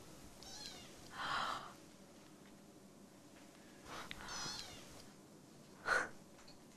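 A kitten gives three short high meows spaced a couple of seconds apart, close but soft, against a quiet indoor background.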